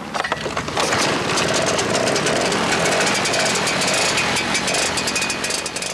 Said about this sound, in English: The engine's sort of a combination lawnmower and industrial fan that runs on gasoline and oil.